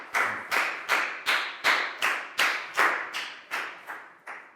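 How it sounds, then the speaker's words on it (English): Claps ring out in a classroom for a student, arriving as a steady series of about eleven sharp, evenly spaced beats, fairly close and clear with nothing else in between. "Big round of applause for Lakgao"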